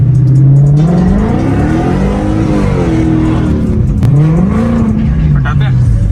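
A BMW E46 engine revs and pulls through gears while driving in Multan, Pakistan, loud and close with rising and falling pitch, mixed with voices talking over it.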